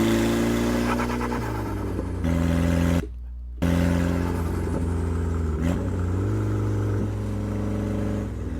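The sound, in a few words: Nissan S13 car exhaust pulling up and letting off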